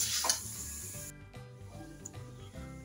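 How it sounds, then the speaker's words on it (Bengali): Cardamom fries in ghee for carrot halwa, giving a bright sizzle at first that drops sharply, then a low rhythmic scraping and stirring with faint crackles close by. "এলাচগুলোকে আমি দিয়ে দেবো, দিয়ে এগুলো দিয়ে নাড়াচাড়া করবো"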